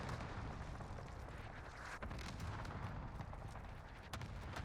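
Cluster strike airstrike explosions in Call of Duty, a dense, continuous rumbling barrage with sharper blasts cutting through, steady and loud throughout.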